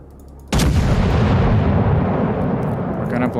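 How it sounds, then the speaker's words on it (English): A bot battleship in World of Warships fires its main guns from far back behind an island, a sudden heavy boom that swells into a long, loud rumbling roar and holds steady for several seconds. "we have the bot battleship that's way back behind the island and shooting into the island"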